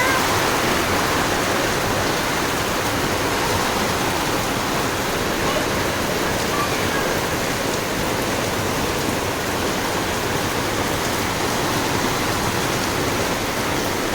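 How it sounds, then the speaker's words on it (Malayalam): Heavy rain pours down in a dense, steady roar that stays loud and unbroken throughout. "ബുക്സൊക്കെ പൊതിയുന്നതിൻ്റെ ഇടയ്ക്കാണ് നല്ല ഇടിച്ച് കുത്തി മഴ പെയ്തു"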